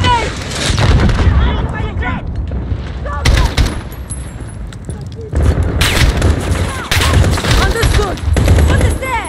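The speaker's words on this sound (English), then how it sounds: "They've got a rocket grenade!" Rocket grenade blasts and rapid gunfire in a combat video game, with loud bursts of shots and booms in clusters separated by short lulls, while voices shout in the background.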